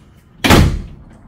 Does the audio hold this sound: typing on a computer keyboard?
no